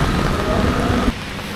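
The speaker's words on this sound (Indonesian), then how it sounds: "suara petir" Heavy rain pours steadily in the Dieng highlands of Wonosobo during a thunderstorm, with a broad low rumble of thunder under the downpour that cuts off abruptly about a second in, leaving quieter rain.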